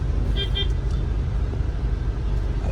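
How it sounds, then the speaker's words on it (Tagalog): Steady rumble of road traffic with cars and buses passing close by, broken near the start by a short double toot of a car horn, then continuing as a dense low drone. "Traffic lang ngayon."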